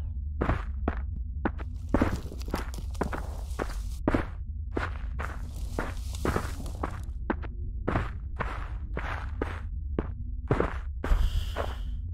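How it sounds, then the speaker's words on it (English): Footsteps in a haunted-house horror video game, a steady series of soft thuds paced at a walking rhythm over a low ambient rumble, with no talking. "I don't know if that's my footsteps."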